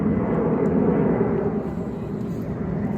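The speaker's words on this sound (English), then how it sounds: "CDF plane is taking off." A CDF fire plane taking off, heard as a loud, steady broadband engine roar that fills the whole stretch without a break.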